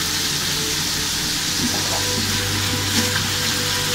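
Chicken and whole spices fry in hot oil with a steady, dense sizzle and crackle, close and continuous throughout, with occasional faint stirring sounds.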